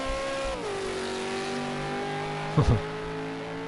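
Race car engine in Project Cars 2, a Camel GT-style race at Bathurst, holding a steady loud drone whose pitch drops early on, then a brief sharp burst of revving or tire noise near the end.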